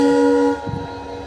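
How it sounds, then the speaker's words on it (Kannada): A WDG4 diesel locomotive horn sounds one loud, steady blast of about half a second that cuts off abruptly, leaving a low rumble of the engine and rail noise. "ಇಂಜಿನ್ ಈಗ ಬರ್ತಾ ಇದೆ"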